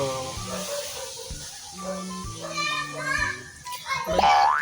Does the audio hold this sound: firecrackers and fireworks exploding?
no